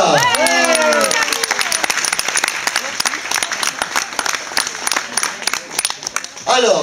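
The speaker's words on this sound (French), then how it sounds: "on applaudit Karine" An audience at a restaurant event applauds Karine, owner of L'Oasis restaurant in La Croix Valmer, with sustained dense clapping and a few cheers, loud and continuous over nearly seven seconds.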